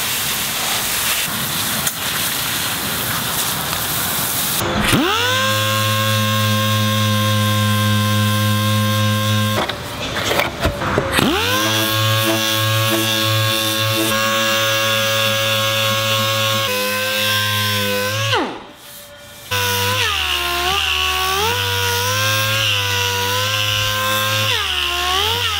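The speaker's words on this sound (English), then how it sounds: "We sanded out and feathered out all of our scratches on our panels." Power sander working scooter body panels with 150-grit paper, a loud steady motor drone that stops briefly near 10 and 19 seconds and then resumes, with no talking.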